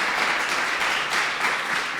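Steady broadband applause from a live audience on a Portuguese comedy show, dense and even throughout with no breaks.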